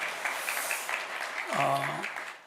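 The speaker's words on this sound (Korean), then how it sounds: "일어나가신 하나님과 우리 돌아옴을 환영하며 박수 한번 좀 보내주겠습니다." A church congregation at a Sunday service claps in a brief, moderate burst while a voice rises over the applause near the end.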